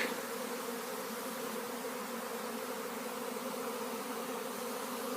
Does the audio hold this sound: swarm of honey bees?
yes